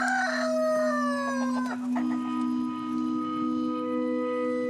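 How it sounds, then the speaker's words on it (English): A rooster on a remote volcanic island crows loudly and close, one long drawn-out call with a falling tail, over a steady background hum and no talking. "When I wake up in the morning and the cock crows, life begins."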